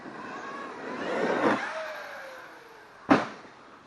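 A Traxxas X-Maxx radio-controlled truck drives with a faint, rising electric motor whine that swells and then falls away, and a sharp clunk near the end.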